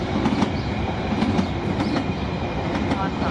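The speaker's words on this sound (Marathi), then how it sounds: "ट्रेन गेली" A train rolls past close by beneath a platform covered in safety netting in London, a loud steady rumble with repeated clickety-clack wheel beats throughout the short stretch.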